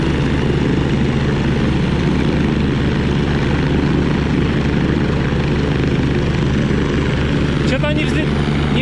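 Light aircraft engine droning steadily and loudly during a 2019 flight lesson, a constant propeller hum throughout with a brief whine near the end, and a voice speaking over it.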